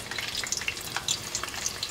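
Cauliflower frying in hot oil in a restaurant kitchen gives a steady, dense sizzle with scattered small pops and crackles, close and continuous throughout.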